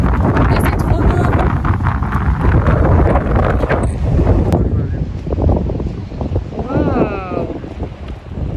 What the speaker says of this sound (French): Je sais pas si vous allez m'entendre avec le vent